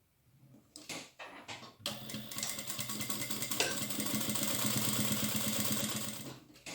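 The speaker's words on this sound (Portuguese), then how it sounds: "E faço o pesponto para o acabamento." Sewing machine topstitching the finish on a fabric makeup pouch, a close, fast rhythmic mechanical whir that starts in short bursts then runs continuously and evenly for several seconds before stopping.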